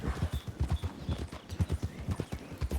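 Rapid, rhythmic clip-clop of horse hooves trotting in a video game, steady and fairly close, with a soft background hum.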